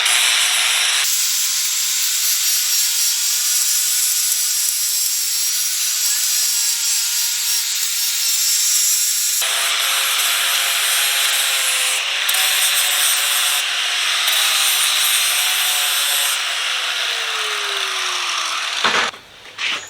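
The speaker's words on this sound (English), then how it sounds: "I'm going to try to get some of these casting marks off this horn using a flap disc." Flap disc on an angle grinder grinding casting marks off the horn of a steel anvil: a loud, continuous abrasive whine and hiss for about twenty seconds, shifting in pitch as the disc bites, ending with a few clunks.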